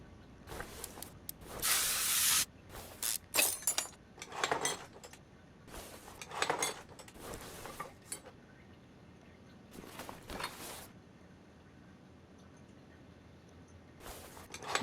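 Spraying a car part in Car Mechanic Simulator 2021: several loud hissing bursts of spray, separated by short pauses.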